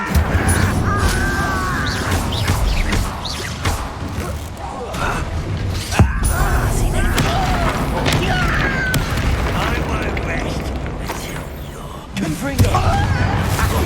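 Fiery Confringo spell blasts burst amid a dense, busy Hogwarts Legacy battle, with booms and impacts, one sharp hit standing out midway, over continuous game sound and voices.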